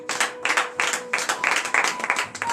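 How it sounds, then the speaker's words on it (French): A congregation at a Saturday morning prayer service in Benin claps in bursts of loud, close, rhythmic applause with a sustained tone beneath. "Donnez de vive acclamation à notre Seigneur Jésus."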